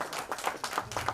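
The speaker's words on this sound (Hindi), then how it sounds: "नैन्सी के लिए भी जोरदार तालियां हो जाए" Audience at a film trailer launch event claps for an actress, a few close bursts of hand claps swelling in short waves, fairly near and alone without talk.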